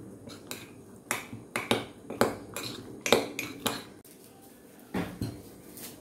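A spoon clinks and scrapes against a mug while mixing oat mug cake batter with milk, a quiet, irregular series of sharp taps and short clatters spread across the clip.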